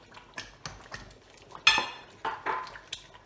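Metal spoon scrapes and clinks in a pot of Ghanaian shito chili sauce with dried fish powder and dried shrimp being stirred, a series of close, uneven scraping strokes at an irregular rhythm, with no talk.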